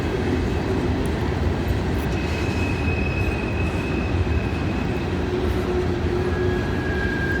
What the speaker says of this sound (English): Looks like we got us a grain train here.